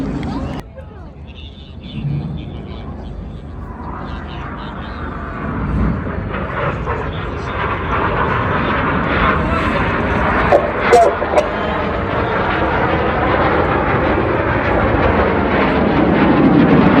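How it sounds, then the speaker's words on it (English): Red Arrows BAE Hawk jets fly past at the Blackpool Airshow, a broad jet roar that builds steadily and stays loud, with an announcer speaking over the public address throughout. "As the Synchro pair leave to a rear, look to your left hand side, you can see Enid joined by Red 8 and 9"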